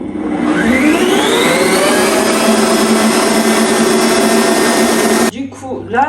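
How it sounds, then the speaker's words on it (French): A kitchen mixer runs at maximum speed through bûche de Noël batter, a loud continuous whir that climbs in pitch as it spins up, then cuts off abruptly and leaves brief quieter handling noises. "je vais mixer au maximum"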